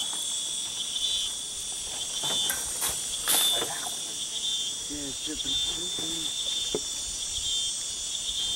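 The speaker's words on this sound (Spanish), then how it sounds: "Oye, el canto de las chicharras." Cicadas sing in a continuous high, shrill drone across the countryside around Zapotitlán Lagunas, Oaxaca, with a voice briefly heard faintly beneath.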